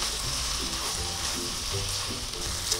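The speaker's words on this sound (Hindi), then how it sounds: "तेज़ आंच पे इनको 5 मिनट पका लें" Vegetables for beef chilli cook on a high flame, a steady loud sizzle with soft stirring clatter running without pause throughout.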